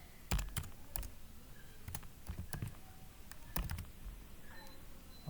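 Quiet, irregular keystroke clicks from a computer keyboard, short bursts of typing with pauses, recorded close in a calm room.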